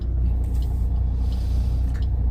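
City traffic in India is heard from inside a car as a steady low engine rumble, with occasional brief hisses and passing buses or trucks nearby.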